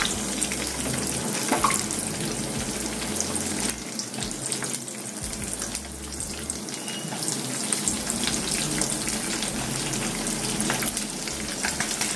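Korameenu fish fries in a pan, Godavari style, with a steady, close sizzle and crackle of hot oil that continues for the whole stretch, with no talking.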